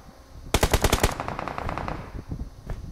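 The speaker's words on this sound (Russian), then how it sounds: "он меня стреляет" Automatic gunfire rattles in PUBG on the Erangel map, a fast burst of a dozen or so close shots followed by scattered quieter shots trailing off.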